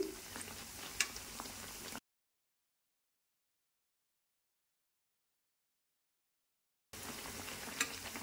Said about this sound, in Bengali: এভাবে করে উল্টিয়ে পাল্টে আমি পেঁয়াজগুলো ভেজে নেব